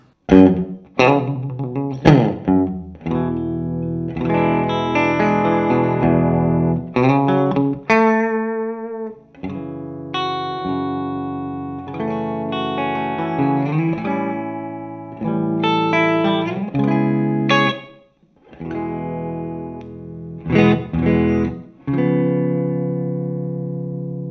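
An electric guitar through a clean Morgan MVP23 tube amp plays clean, ringing chords and single notes with a clear, bright tone, pausing briefly between phrases.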